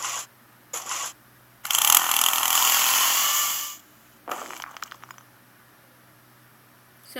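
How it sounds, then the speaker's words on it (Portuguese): Power drill whirring in one sustained burst of about two seconds, preceded by short clicks and followed by rattling, mechanical clatter in a quiet room. "Eu vou tentar a furadeira."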